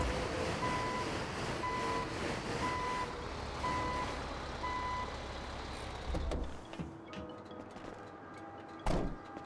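A tow truck in the GTA 5 video game gives steady, evenly spaced reversing beeps over a rumbling engine, then stops, and a thud follows near the end.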